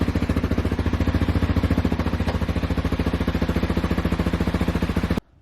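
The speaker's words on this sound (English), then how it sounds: "start up the bike and leave it running for 15 minutes. Wow man, this sounds good." A KTM 690 Enduro R motorcycle with an aftermarket Wings exhaust idles loudly and close by, its deep exhaust thrumming in a fast, even pulse before cutting off abruptly.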